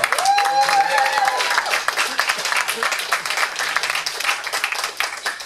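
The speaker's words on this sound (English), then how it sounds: "I'll let you applaud for the fact that" Audience at a city commission meeting claps for the broken paddle award from the raft race, a loud, dense burst of many hands that stays strong throughout, with a voice briefly heard over it at the start.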